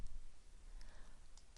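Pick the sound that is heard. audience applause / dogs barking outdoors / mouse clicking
mouse clicking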